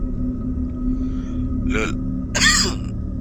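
A single muffled cough from an unwell speaker bursts out over a steady low background hum, followed by a second, louder cough close to the mic.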